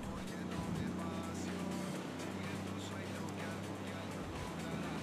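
A car drives through a town in Ghost Recon Wildlands, its steady engine drone running continuously at moderate level while people talk over it.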